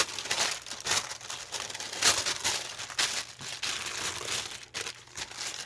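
Wax paper crinkles and rustles close by in irregular bursts of handling while a mixed media insert cover for a traveler's notebook is protected, with no talking.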